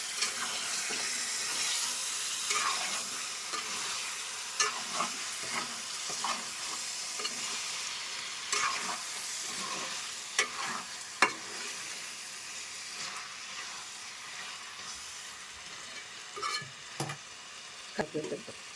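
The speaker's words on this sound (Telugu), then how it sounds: "ఇప్పుడు ఒకసారి కలుపుకుందాం." Homemade chicken gravy sizzles in a pan while being stirred, a steady frying hiss broken by irregular scraping and clacking of the spoon, close and fairly loud, with no voices.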